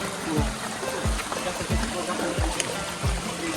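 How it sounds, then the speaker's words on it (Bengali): Small mountain stream flowing on the trail toward Langlok waterfall, a steady close trickle and gurgle of water running throughout, with recurring low thumps and some background voices. "আর এই যে একটা জিরি।"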